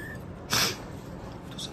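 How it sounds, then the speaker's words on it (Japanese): A man's single short sneeze bursts out midway through a quiet room, sharp and close, followed by faint rustling. "お父さんのくしゃみびっくりしちゃったね。"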